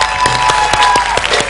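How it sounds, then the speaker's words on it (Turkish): Studio audience applause on a Turkish television entertainment show, a steady dense clapping wash with sharper bursts throughout, loud and continuous with no talking. "Alkışlar."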